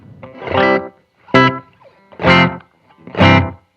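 Four short electric guitar chords through a custom Subway Delay pedal ring out one after another, each with a quick delay tail trailing off before the next strike.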